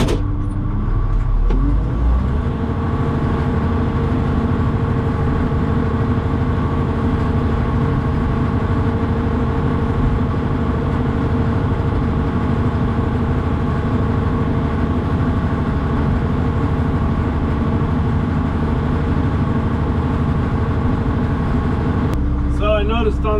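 A vehicle engine drones steadily while driving with one set of wheels down in a ditch, a loud, continuous low rumble lasting throughout, with a brief knock near the start and end.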